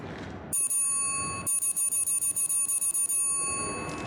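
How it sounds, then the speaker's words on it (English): A service bell in the video game Bendy and the Dark Revival rings loudly in a rapid run of about a dozen bright metallic dings. A single strike sounds first, then the fast repeated ringing continues, set against a quiet, eerie ambient background. "Ring the bell for service."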